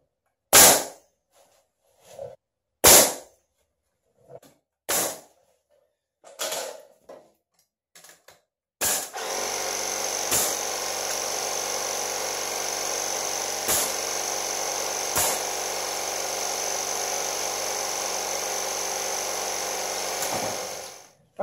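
Several sharp, separate knocks lead into a circular saw cutting excess off pallet wood, a loud, steady whine that runs for about twelve seconds with a few clicks along the way.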